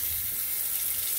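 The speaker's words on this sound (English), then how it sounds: "turn on the faucet and allow a trickle of water to go down" Kitchen faucet at an undermount sink running steadily, a continuous hissing trickle of water falling into a bucket below, close and even throughout with no voices.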